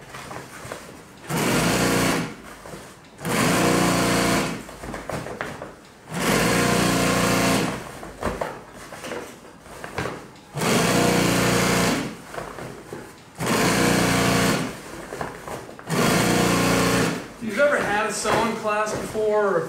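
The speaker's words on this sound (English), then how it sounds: "now we're going to top stitch that same seam" A sewing machine top stitches a seam on a cockpit cover, running in six bursts of roughly two seconds each, separated by brief pauses. A voice is heard near the end.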